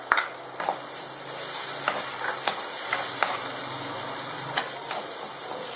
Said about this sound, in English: So saute till the tomatoes have cooked completely.